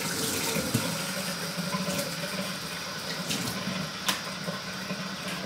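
Hot water runs steadily from a tap onto a wool felting egg wrapped in nylon, a soft continuous splashing stream with a few small drips and clinks, fairly quiet and close.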